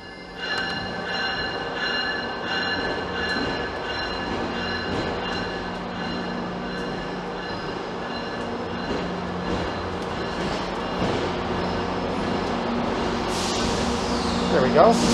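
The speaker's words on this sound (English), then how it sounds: "I hear a train rolling in." A GO Train rolling into Union Station in Toronto, a low continuous rumble of rail cars heard from a station concourse near a food court, building slightly, with faint wheel squeal near the end.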